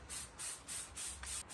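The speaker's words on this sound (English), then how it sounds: "so let me spray it down pretty good." Spray bottle misting water onto wooden acoustic guitar sides before bending, several short hissing bursts in an even rhythm, close and fairly quiet.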